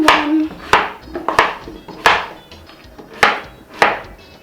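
Knife chops through raw yam on a cutting board, six or so sharp, loud thuds at an uneven, unhurried rhythm, close by with a faint hiss between strikes.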